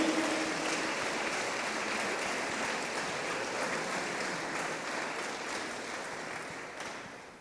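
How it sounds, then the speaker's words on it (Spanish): A church congregation claps together in a steady dense wash of applause that slowly fades toward the end, with no voices. "Démosle palmas al Señor por eso."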